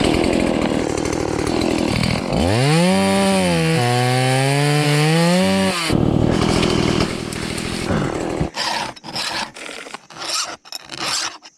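Chainsaw cutting wood while clearing a woodland trail for deer habitat: a loud, close engine whine that rises and holds under load, then drops into choppy, stuttering bursts as the cut finishes.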